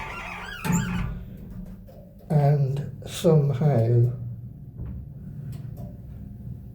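A trades lift's sticking inner door in D block squeals in several drawn-out, rising tones before it shuts, loud and close, while someone talks over it.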